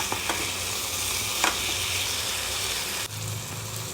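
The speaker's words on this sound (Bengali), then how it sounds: "আমি কাঁকড়াগুলো খুন্তি দিয়ে কেটে নিয়েছি, নিয়ে আরও ভালো করে কষাচ্ছি" Whole crabs are sautéed in a pan, giving a constant loud sizzle with occasional scraping stirs from a spatula and a short clatter near the end; no one speaks.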